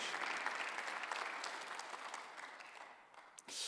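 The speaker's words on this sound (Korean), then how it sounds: "박수를 하세요" A church congregation applauds during a Sunday worship service, a continuous dense patter of many hands at moderate volume that gradually eases off before a short swell at the very end.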